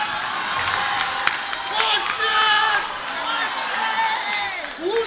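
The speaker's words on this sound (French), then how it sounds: "Applaudissez-moi s'il vous plaît." Audience at a Haitian comedy festival in Paris applauds and cheers, with sustained clapping under whoops and shouting voices throughout.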